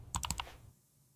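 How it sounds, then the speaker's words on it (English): Someone types an email on a computer keyboard: a quick close burst of about four crisp keystrokes, then quiet. "I am typing an email now."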